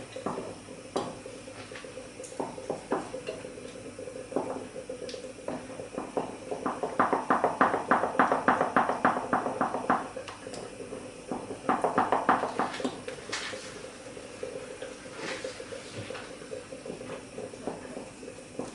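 Rhythmic scraping and clinking of a spoon stirring pudding in a pot, steady strokes that speed up in bursts, close and moderately loud.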